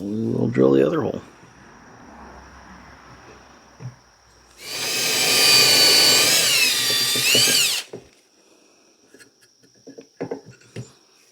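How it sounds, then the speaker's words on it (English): A power drill bores a hole in a mini vise French cleat with a loud, steady high whine lasting about three seconds, preceded and followed by brief speech and small workshop clatter. "So we will drill the other hole."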